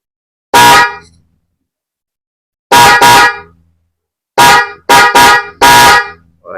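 A car horn wired through a Bosch relay honks loudly and close by: one short blast, a double toot, then a rapid run of several quick honks, with silence between bursts.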